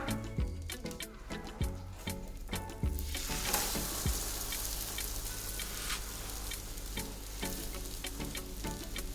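An egg frying in a pan on low heat, a dense, continuous sizzle with occasional sharp pops and spatula scrapes, close and alone without any talk.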